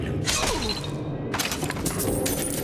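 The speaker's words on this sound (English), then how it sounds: "A lot of broken glass, and somehow I didn't make noise." Glass shatters loudly in Bioshock Infinite, two crashing bursts with scattered tinkling debris and a thud, up close and with no talk over it.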